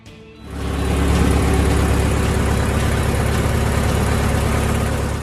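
A 4-cylinder gasoline engine of an RC tractor, 125 cubic inches, starts up and settles into a loud, steady, close running drone with a dense low rumble and no speech.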